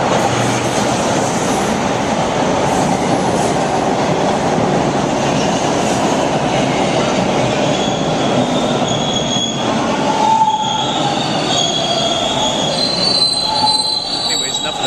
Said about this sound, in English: Watch out, train's coming.